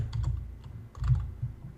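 Fingers typing on a computer keyboard, quiet close clicks in short bursts with a brief pause mid-way, no talk over it.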